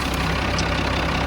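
Steady idle of a Schlüter E7800TV tractor's diesel engine, a close, unbroken low throb with slight mechanical clatter, alone and unchanging.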